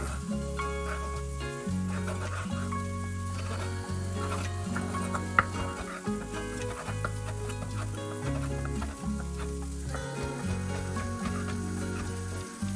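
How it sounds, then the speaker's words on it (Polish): Garlic added to spinach in a frying pan sizzles steadily, with stirring scrapes and clatter throughout, close and fairly loud, no talking. "I czosnek dokładam teraz na patelnię do szpinaku."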